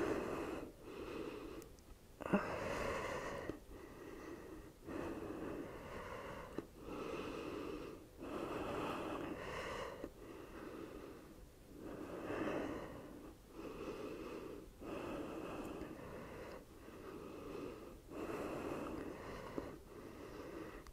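Heavy, rhythmic breathing from someone doing glute exercises with a resistance band at ankle height, each breath a breathy, slightly wheezy rush repeating roughly every two to three seconds, close and steady.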